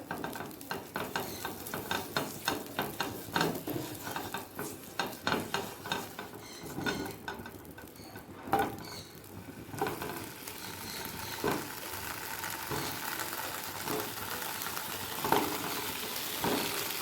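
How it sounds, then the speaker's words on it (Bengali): Potatoes frying in a small amount of ghee in a pan, a steady close sizzle with repeated scraping stirs from a spatula throughout. "ঘি দিয়ে প্রথমে আলুটাকে একটু ভেজে নেব খুব সামান্য তেল দিয়ে করব"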